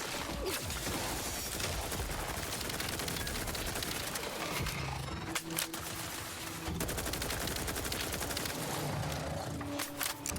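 Rapid automatic gunfire from a gun in the Outer Worlds 2 video game, dense, loud and continuous bursts of close-up shots running almost the whole time, with a brief lull midway.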